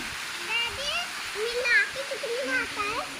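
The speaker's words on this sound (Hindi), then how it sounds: "देखो धारा बह रही है, ये देखो नीचे तक जा रही है धारा।" Water in a stream flows and rushes steadily at the Nav Durga Mata temple, a continuous hiss carried under a person talking.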